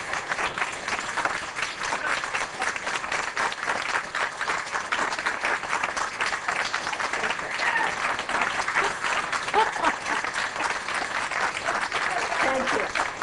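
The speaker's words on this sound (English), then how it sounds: "applause till the end" An audience fills the room with steady, dense applause, many hands clapping continuously at even loudness throughout, with no clear break.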